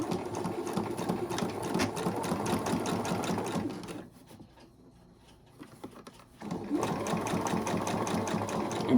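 A sewing machine stitches a quilt seam in directional fabric, running steadily at close range for about four seconds, dropping to near silence for roughly two seconds, then starting again.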